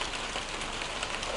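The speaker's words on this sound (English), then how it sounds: "It's raining outside." Steady, dense hiss of rain falling continuously, even and unbroken, with no voices over it.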